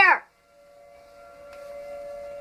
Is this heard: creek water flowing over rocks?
no